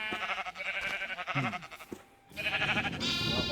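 A sheep in the Minecraft video game gives a few wavering bleats, close and moderately loud, with a short pause before more game sounds.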